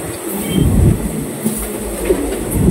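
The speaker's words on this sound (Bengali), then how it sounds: "ট্রেন প্রান্তিক ছেড়ে দিল" Close, steady rumble of the Sahid Express train rolling along the rails from Rampurhat to Howrah, with wheel noise and faint squeals layered over the continuous roar.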